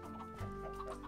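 Chickens in the Minecraft video game cluck in a short burst of soft, close game clucks over a steady low background hum, with no talk over them.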